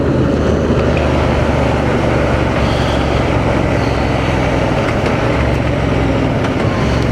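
A 2024 Honda Transalp motorcycle rides steadily, its engine drone blending with loud, constant wind rush that stays even and unbroken throughout.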